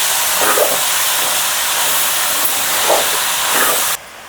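Spinach hits a hot pan of egg bhurji with a loud, steady steam-like sizzle and hiss that holds for about four seconds, then cuts off sharply to near silence.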